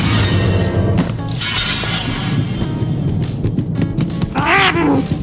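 A cat in the detective game Murdered: Soul Suspect yowls loudly with a drawn-out rising and falling meow near the end, over a dense, noisy game soundscape that includes a crash-like burst earlier.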